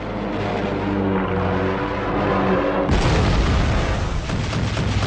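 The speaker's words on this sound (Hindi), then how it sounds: "एयरक्राफ्ट कैरियर की विमान भेदी तोपें एक के बाद एक अमेरिकी जहाजों को निशाना बनाती जा रही थीं।" Anti-aircraft guns of a World War II aircraft carrier firing at aircraft in rapid succession, heavy booming bursts over a droning engine rumble, loud and dense.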